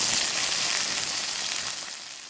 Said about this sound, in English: these dumplings can be cooked deliciously simply by placing in a frying pan